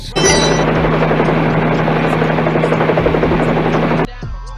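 Loud, close helicopter sound effect with a steady rotor buzz and whine holding for about four seconds before cutting off abruptly, no speech.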